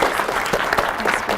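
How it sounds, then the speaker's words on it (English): Applause from a workshop audience at a climate communication event, a short burst of many hands clapping, fairly close and loud. "Can we have another round of applause?"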